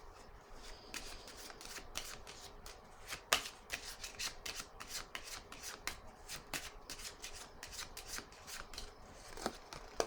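Tarot cards being shuffled close up, a long run of quick papery riffles and soft slaps in an uneven rhythm, fairly quiet with no talking over it.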